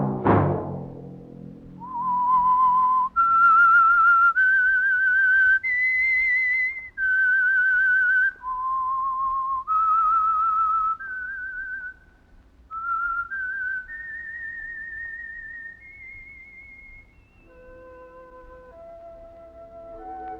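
The whistled theme signal of The Whistler radio program: a clear, loud, solo melodic whistle rising through a sequence of sustained notes, opening with a struck orchestral chord and ending on a descending phrase over a faint background.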